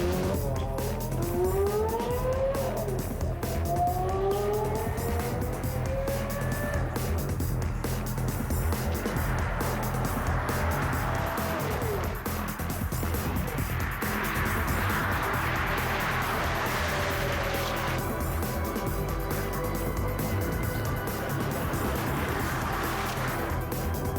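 Porsche accelerating toward top speed on a flying start run, a sustained engine whine that climbs repeatedly in pitch through the gears, strong and steady, with no speech.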